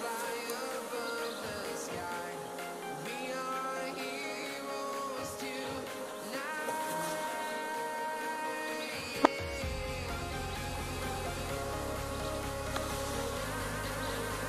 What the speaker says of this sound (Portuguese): Olha, enxame super forte.